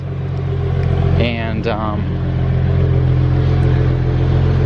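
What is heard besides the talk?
BMW 335i car engine started and idling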